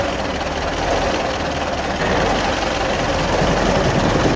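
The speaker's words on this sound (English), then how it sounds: "16 tractors." A tractor engine rumbles loudly and steadily, a deep, unbroken idling drone with no voices.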